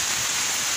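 Rain falls steadily outdoors in a yard as a typhoon approaches, a soft, even hiss of drops with no other sounds standing out.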